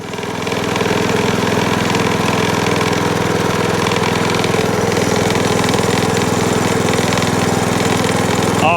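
Hayter Hayterette lawn mower engine running steadily after a carburetor fix, a loud, close, even mechanical drone that holds constant with no talking.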